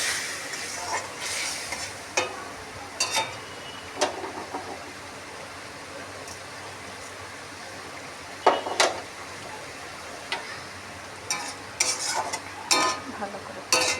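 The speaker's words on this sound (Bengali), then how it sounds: "একটু কষে টমেটোটা দিয়ে দেবো, টমেটো পেস্ট কষে নেব" Tomato paste sautéing with spices and sugar in a pan, a soft steady sizzle broken by sharp, irregular scrapes of a spoon stirring, close up and with no talking.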